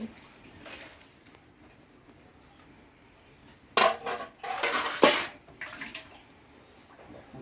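A lid set onto a cooking pot in a home kitchen, sounding as a sudden metallic clatter and clunk around the middle, with a second clink shortly after, over quiet background hiss.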